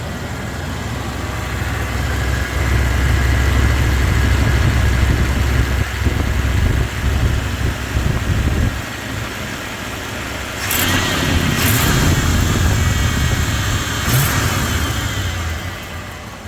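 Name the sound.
quiet farm service truck engine idling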